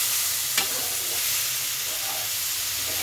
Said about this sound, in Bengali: দিয়ে আমি ভালো করে ভাজা করে নিচ্ছি সবগুলোকে